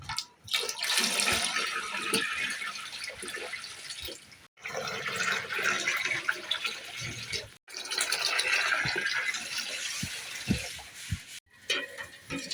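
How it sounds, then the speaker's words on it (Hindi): Water is poured steadily into a batch of tukhmalanga sharbat, a loud continuous splashing stream in three long pours separated by brief pauses, with occasional dull knocks. "अब हम इसमें पानी मिक्स करेंगे।"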